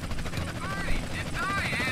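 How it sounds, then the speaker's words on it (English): A helicopter in Grand Theft Auto: San Andreas whirs with a steady, loud rotor drone that fills the clip, while a voice talks over it. "so we did get to keep the chopper"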